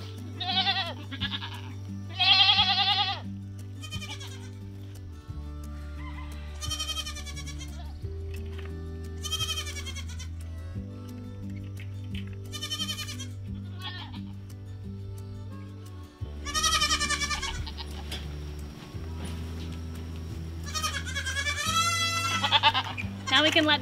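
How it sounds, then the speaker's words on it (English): Goats bleating repeatedly on a farm during morning milking chores, loud and close in several bursts over a low steady hum, with people talking between the calls. "I need to milk goats."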